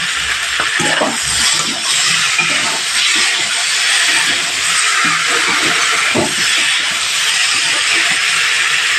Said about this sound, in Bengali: ঝোলের জন্য পরিমাণ মতো জল দিয়ে দিলাম।